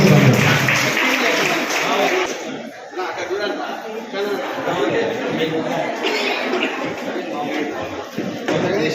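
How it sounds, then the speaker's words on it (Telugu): An audience claps to welcome a guest onto the stage at a celebration event, sustained applause with chatter and light laughter, a voice speaking over it. "గట్టిగా చప్పట్లతో స్వాగతం పలుకుతున్నాం"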